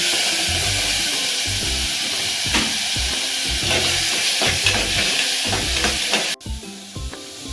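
Tomato stirred into sautéed onion and garlic in a pan for a home-style okra pachadi, sizzling steadily with scraping stir strokes and clinks, then dropping abruptly quieter near the end.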